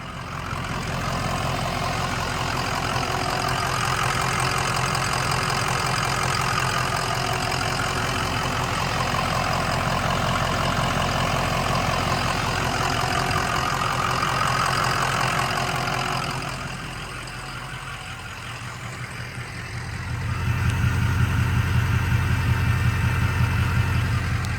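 A diesel Ford Excursion 4WD idling steadily, a low, even rumble close by that dips briefly and then returns slightly deeper and louder.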